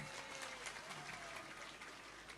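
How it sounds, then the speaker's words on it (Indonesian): An audience at a live Islamic religious gathering in Banjarharjo applauds, a dense, steady patter of many hands clapping that sounds slightly distant and fills the whole moment without pause. "tepuk tangan untuk Mbak Anissa Bahar."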